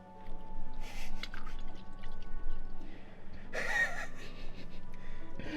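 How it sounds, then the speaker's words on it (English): Water drips and trickles steadily out of a drilled hole in an Audi's floor nearby, with a brief splashing gush midway and faint breathing in the background. "There's so much water coming off of it."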